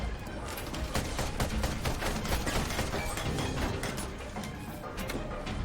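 Rapid mechanical gunfire from a mech's weapons in the steampunk strategy game Ironcast, a steady rattling stream of clacking shots with grinding gear-like texture, quiet and continuous throughout.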